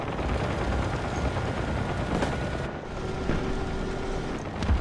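A 30 mm cannon in the mobile combat game War Thunder Mobile fires in a dense, continuous roar of rapid shots, loud and unbroken for several seconds with no talking over it.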